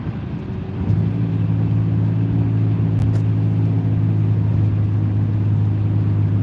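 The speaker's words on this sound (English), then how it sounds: "I'm going to accelerate quickly through this blind spot of this truck" A car accelerates hard past a semi-truck on the road, its engine rising to a steady loud roar after a brief quieter moment, with a low droning hum that holds for several seconds.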